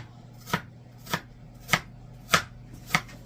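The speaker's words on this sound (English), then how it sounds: "Now I'm going to chop up this onion." A knife chops and minces a leftover onion on a cutting board, five sharp, evenly spaced strikes about half a second apart, close and clear over a faint steady hum, with no talking.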